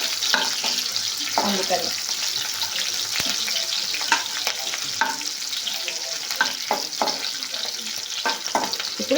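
Sliced onions stir-frying lightly in a pan for a kids' pasta dish, a loud continuous sizzle with repeated scraping stirs and clinks, and a brief spoken word partway through.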